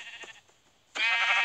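In the Minecraft video game, a sheep gives a short bleat, then a louder, sustained bleat takes over near the end, with no talk.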